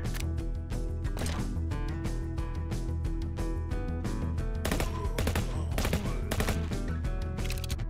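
Rapid gunfire blasts continuously in the VR zombie game Undead Development, a dense stream of loud, close shots over a busy game soundtrack, with no talk.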